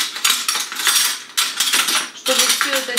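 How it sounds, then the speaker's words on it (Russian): A spoon stirs a mixture of grated potato, egg, onion, salt and pepper in a bowl, giving a close run of scraping, clinking strokes against the bowl in several bursts, with no voice. "чтобы все это дело перемешать хорошенечко"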